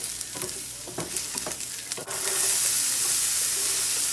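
Shallots and garlic stir-fried in a small amount of oil in a home kitchen, with a close steady sizzle and scraping stir strokes, the frying hiss swelling louder and fuller partway through.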